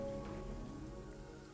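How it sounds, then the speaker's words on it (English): Steady rain in the video game Surviving Mars patters over a low, constant hum, a continuous soft wash with no pauses. "think that's normal rain. It's not even toxic rain anymore."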